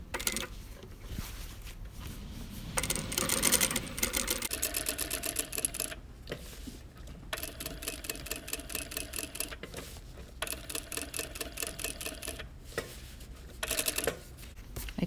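A sewing machine stitches a pocket onto jeans in a close, steady, rapid chatter that runs in bursts with brief stops and restarts.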